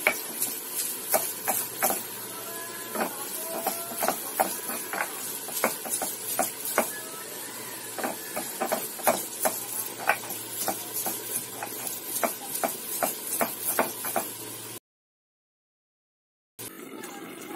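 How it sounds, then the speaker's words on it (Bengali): Bottle gourd leaves ground by hand on a flat grinding stone; a steady run of close, rhythmic scraping strokes, each a short gritty rub, then a brief silence before the grinding picks up again. "লাউ পাতাটা এখন বেটে নেবো পাটায়।"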